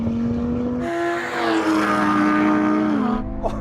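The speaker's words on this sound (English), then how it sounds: "the gear change in this is mental" An Audi drag race car accelerates hard, engine pitch climbing steadily then dropping at a gear change before rising again, loud and near.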